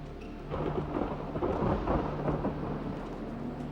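Steady rain with a deep, rolling rumble of thunder building and lingering throughout, no voices.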